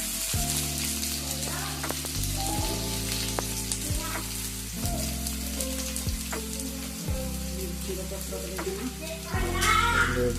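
Onion frying with mustard seeds in hot oil for upma, a loud continuous close sizzle with crackling pops and background music playing throughout.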